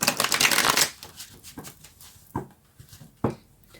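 Tarot cards are shuffled in a brisk, close riffle that fills the first second, followed by a few separate soft card slaps and taps in a quiet room.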